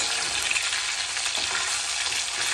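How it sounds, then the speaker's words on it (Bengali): Aar and tengra fish fry in a pan of oil, turned to cook the second side, giving a steady, dense sizzle that holds evenly throughout without pauses. "আর এক পিঠ পাল্টে ভাজতে দেবো"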